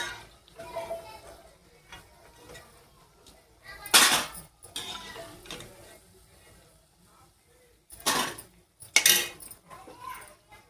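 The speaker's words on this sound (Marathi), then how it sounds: "आता प्लेटमध्ये काढूया." Fried colocasia leaf bhaji lifted out onto a plate, with quiet kitchen rustling punctuated by a few sharp metallic clatters of utensils against plate and pan, the loudest bursts coming near the middle and the end.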